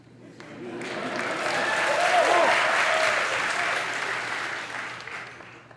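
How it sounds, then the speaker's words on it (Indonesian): An audience at a public lecture by Indonesia's president at Georgetown University, Washington DC, breaks into a steady round of applause that swells to a full roar midway and eases slightly toward the end, with a faint voice underneath. "Tepuk tangan untuk Georgetown Uni."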